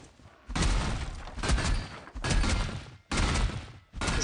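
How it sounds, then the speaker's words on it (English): A wooden chest is smashed apart in Valheim, heavy splintering crashes and thuds in four loud bursts separated by brief pauses. "I think we just destroyed the chest"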